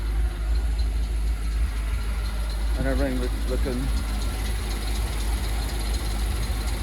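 A deep Volvo Penta 300 hp V8 engine on a 2022 Four Winns V258 boat idles steadily just after starting, with a low rumbling drone throughout, while someone speaks briefly over it.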